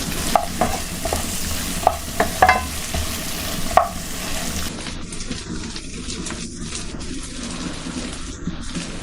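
Butter garlic chicken cooks on a low flame in a pan, giving a soft, steady sizzle. Several sharp spatula clicks and scrapes come early, then a quieter, smoother frying hiss carries on alone.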